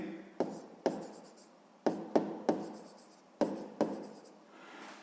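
A pen writes on paper in a quiet room during a sixth-grade maths exercise, giving short scratchy strokes broken by several sharp taps and pauses. The sound is close and soft, and no one speaks.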